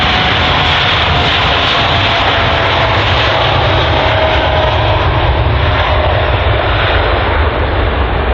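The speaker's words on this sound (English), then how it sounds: "first in line is this WestJet 787, which is heading to Calgary" A WestJet Boeing 787 jet airliner departing London Heathrow for Calgary roars steadily and loudly throughout, a dense continuous engine rumble with no voices.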